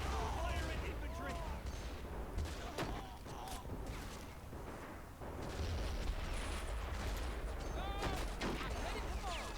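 A dense wartime battle soundscape from Men of War: Assault Squad 2, Operation Overlord mission: constant scattered gunfire and distant blasts rumble on without a break, while brief soldier voice lines cut through the din.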